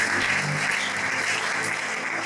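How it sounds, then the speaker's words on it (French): A church congregation applauding at a thanksgiving service, a dense, steady burst of clapping filling the room with no talk over it. "Est-ce que tu peux acclamer pour le Seigneur?"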